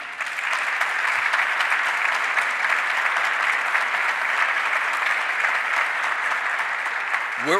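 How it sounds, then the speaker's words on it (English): A crowd at a governor's announcement event in Rochester claps loudly and steadily for several seconds, a broad, sustained wash of applause with no speech. "let's give the governor a round of applause one more time"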